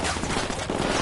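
Dense, fast gunfire bursts in a first-person shooter video game fill a single loud second, with no speech over them.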